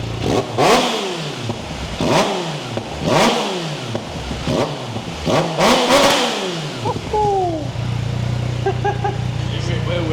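A cold motorcycle engine with a modified exhaust revs hard several times in rising and falling bursts, close and loud, then settles into a steady idle.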